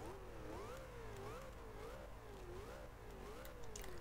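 Car engine in the racing game Forza Horizon 2 revving continuously, its pitch rising and falling in repeated waves like gear changes, loud and steady throughout with no talk over it.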